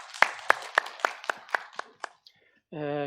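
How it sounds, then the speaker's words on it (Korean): A church congregation claps for about two seconds, with about eight sharp, evenly spaced beats that fade toward the end, followed by a short pause and then a voice speaking. "하나님께 영광의 박수 드리겠습니다"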